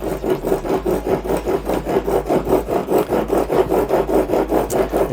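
A single bevel broadhead blade is sharpened with steady back-and-forth strokes, giving a close, loud rhythmic rasping that repeats about three times a second with no talk.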